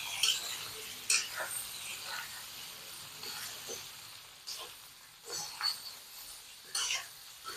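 Ripe olive pickle being stirred and fried in a pan, soft scraping strokes and bursts of sizzle coming every second or so at close range against a faint hiss, no one speaking.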